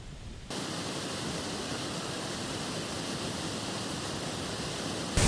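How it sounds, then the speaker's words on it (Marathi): Water pouring from the spillway of Paleshwar dam near Kolhapur roars steadily and close by as a powerful waterfall, a continuous broad rushing of falling water with no other sounds. "पालेश्वरचा हा धबधबा म्हणजे पालेश्वर धरणाच्या सांडव्यातून वाहणारं पाणी"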